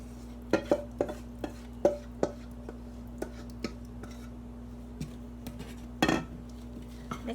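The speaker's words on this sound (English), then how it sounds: "Mix them together" A spoon stirs wet and dry pancake batter ingredients together in a bowl, giving a series of distinct taps and scrapes against the bowl, irregularly spaced, over a steady low hum.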